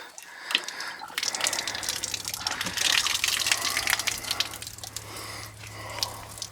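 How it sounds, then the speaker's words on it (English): Water drains out through the shower plumbing of a summer cottage being winterized, a steady near trickle and gurgle with splashy drips that keeps running throughout. "I just open these here and we'll drain it down."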